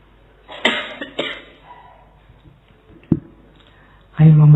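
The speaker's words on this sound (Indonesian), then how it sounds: "Batuk." A few sharp coughs sound at an indoor philosophy lecture, two close together early on and another a couple of seconds later, followed by a louder voice.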